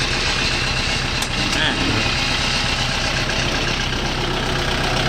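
A secondhand Kubota farm tractor engine idles with a low, steady rumble, close by, while a voice talks over it.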